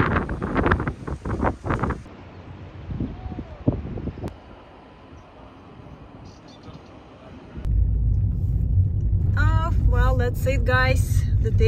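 A car drives home along a scenic sunset route in Gibraltar: wind buffeting and scattered knocks at first, then a loud, steady low road rumble takes over, with a voice briefly heard above it.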